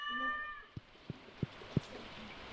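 A cartoonish cat in the farming game Stardew Valley gives four short meows spaced evenly apart, each sharp and close, over soft rain and a fading musical tone.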